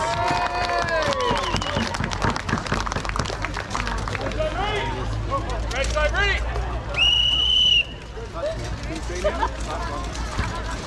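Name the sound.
crowd cheering for fighters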